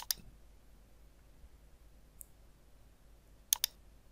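Quiet, close computer mouse clicks: one click at the start, a faint tick midway, then a quick double click near the end, against a near-silent background.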